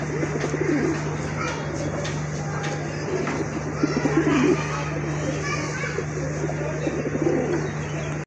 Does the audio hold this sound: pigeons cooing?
yes